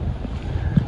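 A banana boat towed at high speed across open water, heard as a brief burst of rushing wind buffeting the microphone over a low, steady engine and water roar.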